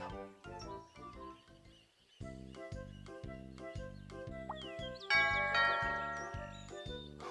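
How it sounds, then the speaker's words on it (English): A bell rope pulled at Owl's house in a Winnie the Pooh video game sets off bright chiming tones over a bouncy, steady game melody, with no talking. "Perhaps I should ring the bell instead of knocking."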